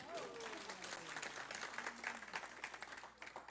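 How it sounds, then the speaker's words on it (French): A small audience claps steadily for someone who has just finished a blindfolded descent, the applause fairly quiet and scattered, with voices murmuring underneath. "Bravo, on peut l'applaudir."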